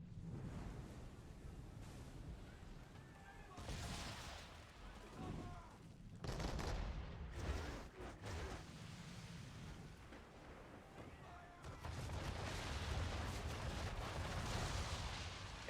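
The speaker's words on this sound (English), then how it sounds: "I do really wish that my grape shot charges faster. Or not my grape shot, my round shot." Naval round shot cannon fire in the video game Assassin's Creed 3 Remastered, several heavy booms with rolling rumble, separated by quieter gaps of ship ambience.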